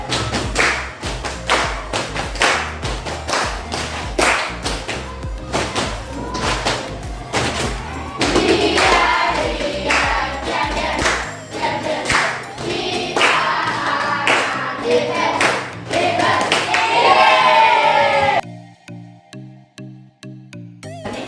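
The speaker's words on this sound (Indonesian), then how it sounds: "mari anak-anak kita tepuk champion dulu" Schoolchildren in a classroom perform the tepuk champion clapping routine, a rhythmic series of sharp claps and thumps in patterned bursts, with their voices chanting along before it cuts to quieter pulses.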